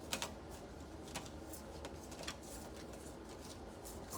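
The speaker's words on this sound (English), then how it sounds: "So I'm just shuffling while everybody's tuning in." Oracle cards are shuffled softly, faint papery riffles and taps recurring in quick irregular bursts in a quiet room.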